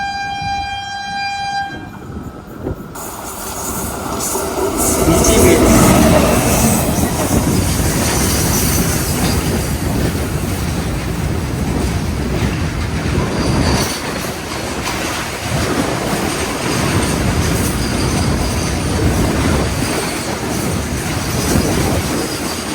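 A goods train rolls past a station crossing, starting with a horn blast and then giving a long, loud rumble of wagons with wheel clatter and squeal close by, with no voices.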